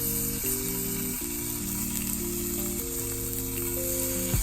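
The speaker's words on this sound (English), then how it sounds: "So let's go ahead and place our scallops in the pan." Sea scallops for a lemon garlic butter dish sear in a smoking-hot pan, giving a steady, close sizzle and hiss that runs the whole time beneath melodic background music.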